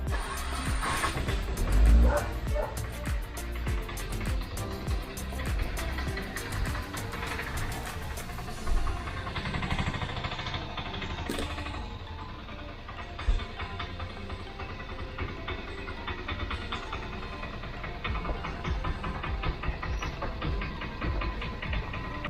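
Riding inside a moving autorickshaw, the engine gives a loud, steady, continuous rumble with road and traffic noise throughout, and no talking.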